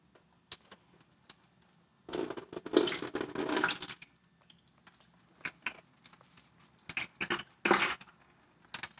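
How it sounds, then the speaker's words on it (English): Glaze poured over a ceramic pot with its bottom cut out, giving wet splashing bursts of liquid in several uneven pours separated by quieter dripping gaps, close by with no talk. "Now we just pour the glaze on."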